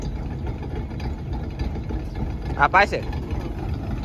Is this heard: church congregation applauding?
no